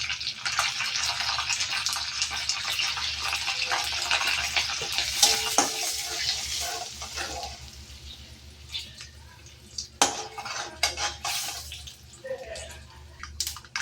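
Asafoetida dropped into hot oil in a pan while cooking a gourd and peanut stir-fry, a bright continuous sizzle that flares and crackles, with someone talking over it.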